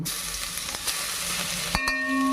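Ginger garlic paste frying in hot oil for a mushroom biryani, a soft continuous sizzle with a couple of sharp clicks near the end and a faint tonal hum at the close.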